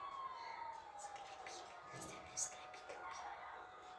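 Police siren wailing in a GTA 5 Online chase, heard faintly and steadily through the game audio, with a quiet voice murmuring over it.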